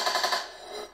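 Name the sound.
gunfire during military exercise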